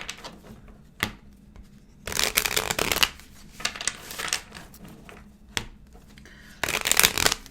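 Tarot cards shuffled by hand, riffled in several distinct bursts of crisp, papery flutter separated by quiet pauses and a few soft taps, close and fairly loud.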